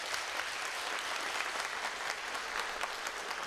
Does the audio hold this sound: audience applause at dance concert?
yes